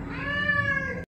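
A single drawn-out house cat meow, close and clear, lasting about a second before cutting off, with no talk over it.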